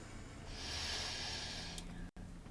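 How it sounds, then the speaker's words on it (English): A group draws one slow, steady inhale together during a heart-centered meditation, a soft airy breath that swells for about two seconds and then stops, faint and close with no talking. "Inhale to begin."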